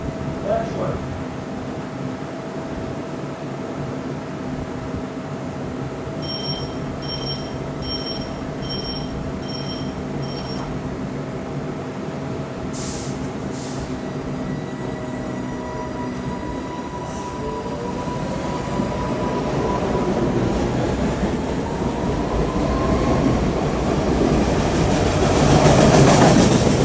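PATCO rapid transit train passing through Franklin Square Station, a long rolling rumble that builds louder toward the end, with sustained high wheel squeal and clattering over the rails; brief chime tones and a distant voice sound early on.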